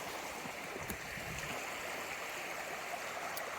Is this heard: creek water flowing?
yes